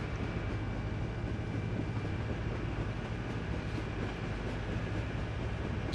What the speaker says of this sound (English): Just go for a little train ride